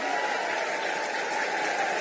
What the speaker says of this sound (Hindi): एक बार जोरदार ताली बजाकर नीतीश कुमार जी का स्वागत करने का काम कीजिए।